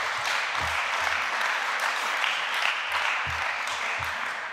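Steady applause fills a parliament chamber during a plenary debate, a dense continuous patter of many hands clapping at even loudness throughout, with a few low thumps underneath and no speech over it.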